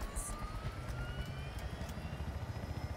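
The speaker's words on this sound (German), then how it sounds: "Ich sitze in so einem Kampfheli." An attack helicopter in the Battlefield 4 multiplayer game drones with a low, pulsing rotor thrum and a faint whine above it, fairly quiet and steady, with no talk.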